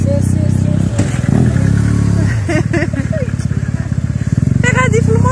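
A motorcycle engine revs hard at close range during an Eid outing, its rough low drone rising and falling in bursts while people talk and shout over it.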